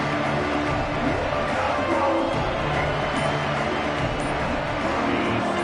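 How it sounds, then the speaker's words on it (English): College football stadium crowd cheering, a steady, loud wash of roaring voices that holds at an even level with no clear breaks. "listen to this crowd coming through"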